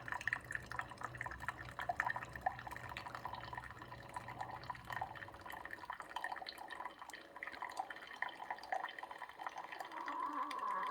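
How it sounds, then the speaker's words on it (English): An espresso shot drips and trickles from a Keurig K-Latte coffee maker, soft liquid drips and a light pour against a quiet machine hum, fairly close. "And then it automatically now is starting to do the espresso shot."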